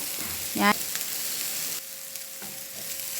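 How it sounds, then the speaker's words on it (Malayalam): Onions sautéing in a pan for a clam roast, a soft steady sizzle with a brief stirring scrape near the start, close and fairly quiet, without talk. "ഇപ്പോൾ സവാള ഇവിടെ നന്നായിട്ട് വഴന്നിട്ടുണ്ട്."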